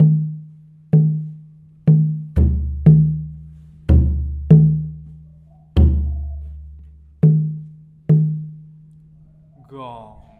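A Javanese gamelan plays the suwuk ending of a lancaran, evenly spaced low drum-like strokes slowing down with deep gong hits ringing under several, close and loud, with a faint voice at the end.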